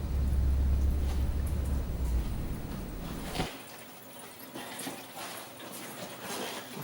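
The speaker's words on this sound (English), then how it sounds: "squirting right out onto that cardboard and right into our drain pan" Engine coolant drains from a Ninja 1000 motorcycle radiator onto cardboard and into a drain pan, a loud close gush of liquid that cuts off abruptly midway and leaves soft trickling and dripping.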